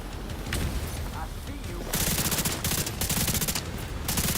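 Rapid automatic gunfire from the Kingbreaker rifle in The Division 2, long fast bursts at about 900 rounds per minute with short gaps between them, loud and up front over game background noise.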